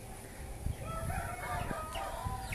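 Fighting gamecocks bred for knife-spur bouts crow at a breeders' yard, several drawn-out calls overlapping against a busy background of clucks and farm noise, fairly close and steady throughout.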